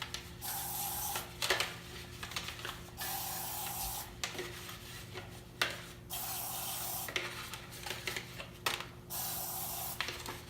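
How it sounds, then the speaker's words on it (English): Short hissing bursts of an aerosol nonstick cooking spray coating a muffin tin repeat at a steady pace, each a second or two long, with quiet scraping and clicking between sprays. "I'm gonna spray them with nonstick spray."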